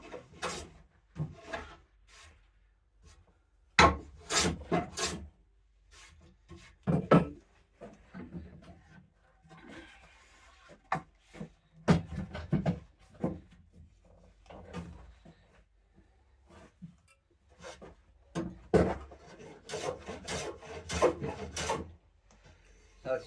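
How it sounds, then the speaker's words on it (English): A freshly sharpened heavy No. 7 hand plane edge-planes a board on a workbench, making intermittent close shaving strokes and wooden knocks between pauses. "It's good for edge planing because there's just the heft on it."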